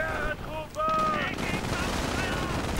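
Continuous, dense bursts of MG42 machine gun fire in a World War II strategy video game, loud and rattling amid other battle noise, with a few tonal game sounds early on.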